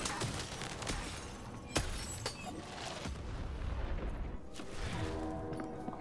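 Several sharp cannon booms crack out irregularly amid a busy, noisy battle din in the video game Lost In Random, fairly loud and spaced a second or so apart.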